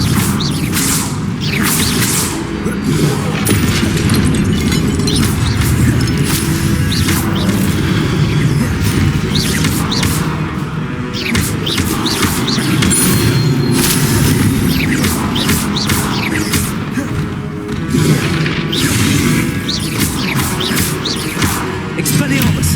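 Repeated spell-casting effects from the game Hogwarts Legacy: loud magical bursts, whooshes and crashes of Expelliarmus duels come in a dense, continuous stream, with a voice calling out spell names.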